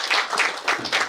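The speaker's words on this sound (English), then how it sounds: "Let's continue clapping for the DC." Audience applause at the opening of a workshop, a dense burst of many hands clapping together, steady and fairly loud across the whole moment with no voice above it.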